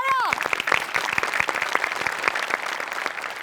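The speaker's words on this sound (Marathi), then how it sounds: "टाळ्या." A studio audience at a Marathi comedy sketch show breaks into applause after a brief tonal sound, the dense, close clapping continuing steadily to the end.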